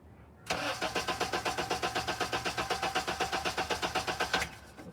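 A Honda engine cranks steadily for about four seconds, with a fast even rhythm of compression pulses that is loud and close, then stops, with no talk over it.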